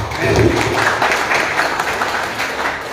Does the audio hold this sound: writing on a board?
no